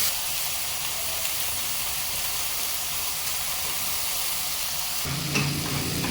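Tomatoes frying in a pan for tomato rice give a steady, close sizzle that runs throughout, with a brief scrape or stir near the end.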